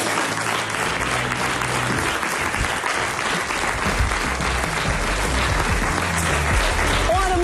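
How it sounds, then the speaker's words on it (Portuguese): Strong, continuous applause from a television studio audience, full and steady for several seconds, with voices faintly mixed underneath. "Um grande aplauso."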